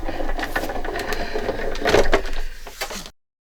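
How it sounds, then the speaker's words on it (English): Big Shot die-cutting machine cranks through a card and tag with gold foil, close mechanical rolling and clicking that swells in the middle and then stops abruptly. "So you can see I got the big shot machine here."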